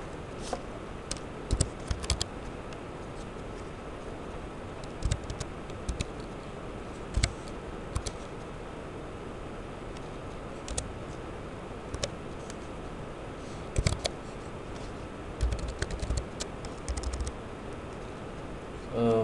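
Keys clatter on a computer keyboard as LaTeX code is typed, a steady run of quiet clicks with sharper isolated taps over a low background hiss, while someone talks throughout.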